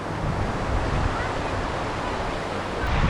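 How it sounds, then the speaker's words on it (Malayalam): Steady roaring wind buffets the microphone throughout at a stone monument site in Garni, Armenia, a loud, continuous broadband rush with slight swells, and no talking. "നല്ല കാറ്റടിക്കുന്നുണ്ട്"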